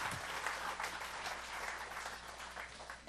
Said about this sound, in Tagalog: A loud clap offering.